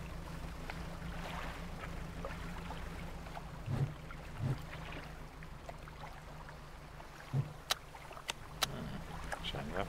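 Fishing boat sailing home in the video game Dredge: a low, steady engine drone under faint water and wind wash, with a few soft splashing knocks and clicks near the end.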